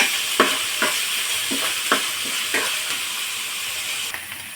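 Ginger garlic paste fries in a pan for vegetable biryani, a constant sizzle broken by regular spoon strokes roughly every half second, close and fairly loud with no voices.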